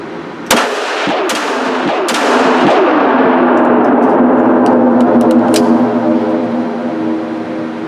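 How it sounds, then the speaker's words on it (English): Several loud, sharp gunshots ring out at close range from a gun fitted with an Olight PL-2 Valkyrie weapon light, three in quick succession near the start and then a long reverberating rumble with faint clicks. "shooting guns with the PL-2 on there"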